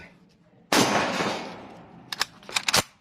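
Several loud, close shotgun blasts from a Saiga-12 semi-automatic 12-gauge with an all-steel frame: one big boom with a long ringing tail, then a quick cluster of sharp shots near the end.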